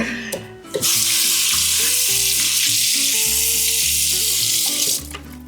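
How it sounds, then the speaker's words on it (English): Water runs steadily from a kitchen tap as hands are rinsed beneath it, a loud continuous broadband hiss with faint clinks and splashes underneath, starting abruptly and cutting off near the end. "I'm gonna rinse off my hands really quick."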